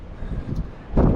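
Wind gusts across a beach, a low rumbling buffet against the microphone that surges louder near the end.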